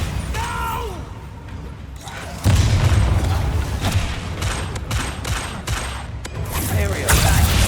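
Spell explosions burst in the video game Hogwarts Legacy, a string of loud booms and crashes over a busy battle din, with heavier impacts from midway on and a voice heard amid the fighting.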